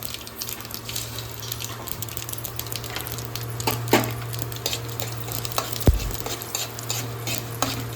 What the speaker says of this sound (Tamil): எண்ணெய் காஞ்சிடுது. இப்போ கடுகு போட்டுக்கோங்க.